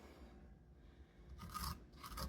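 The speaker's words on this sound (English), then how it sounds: "Get your spoon and go around and scrape all of this stuff off the inside." Two short, soft scraping strokes close by, a spoon rasping seeds and strings from the inside of a spaghetti squash, over a quiet background.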